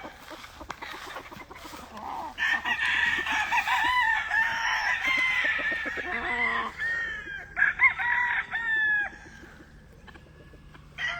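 A rooster crows several times at a Louisiana game-bird farm, loud and close, with long drawn-out calls, clucking and other fowl sounds between them and no talking.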